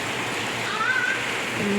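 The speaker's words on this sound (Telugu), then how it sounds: "వర్షం మాత్రం చాలా బాగా పడుతుంది" Heavy rain falling near a house with runoff water flowing: a brief, steady wash of broadband water noise with a faint whistle-like tone partway through.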